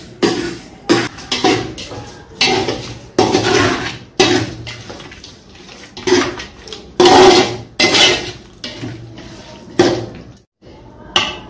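Chicken biryani masala being mixed in a metal pot, with repeated loud clanks and scrapes of a spoon against the pot in irregular bursts, close up, separated by short pauses.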